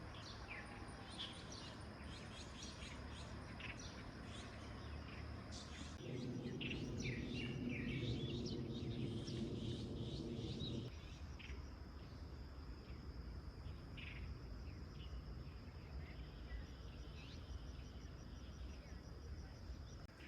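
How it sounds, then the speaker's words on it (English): Birds chirp and sing in a quiet small county town in northern China, with scattered faint calls over a soft background and a brief low hum in the middle. "Apart from the sound of birds, everything around me is very quiet."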